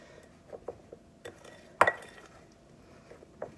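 A metal spoon stirring and mixing ingredients for a pineapple parfait in a bowl, a few light clinks and scrapes with one sharper knock midway, close and quiet, no voices.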